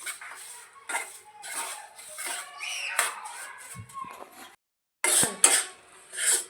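A jaggery and peanut mixture for chikki is stirred steadily in a pan over medium gas, giving repeated close metallic scrapes and clinks of the spoon against the pan, with a brief pause before the scraping resumes.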